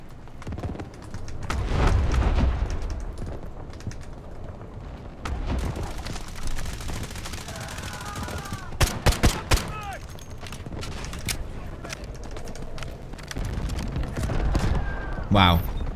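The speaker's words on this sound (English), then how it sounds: "Wow. Explosion," Gunfire and explosions from the Delta Force video game: a continuous crackle of weapon fire with heavy booms, and a sharp cluster of loud shots in the middle, over a dense battlefield din.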